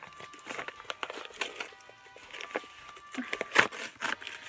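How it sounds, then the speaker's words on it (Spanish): A plastic bag around an online order of Hello Kitty and Sanrio goods, torn open by hand without scissors, crinkling and rustling up close in uneven bursts with a few sharper snaps. "Pues ya abrí la bolsa, amiga."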